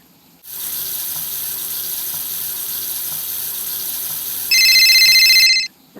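A sink tap runs in a steady rush of water for face washing inside a Roblox game, starting and stopping abruptly, with a ringing phone tone sounding over it near the end.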